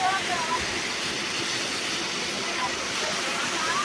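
Waterfalls at the Shilparamam crafts village give a continuous, even rush of falling water, steady and moderately loud throughout with no clear voices on top.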